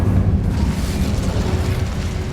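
In the Hogwarts Legacy video game, the Incendio fire spell is cast, producing a loud, continuous roaring burst of flame that fills the whole moment without pause.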